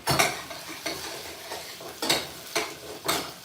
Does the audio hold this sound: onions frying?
yes